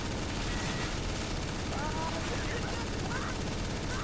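Rapid continuous gunfire in the CS:GO JailBreak game mode, dense automatic shots rattling steadily throughout, with a player's voice talking over it.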